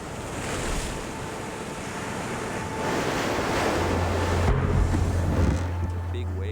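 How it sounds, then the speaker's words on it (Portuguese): Big ocean waves hitting the sides of a sailboat at sea at night, a continuous rushing wash of water with wind noise and a low hum building toward the end. "Ondas grandes batiam nas laterais do barco."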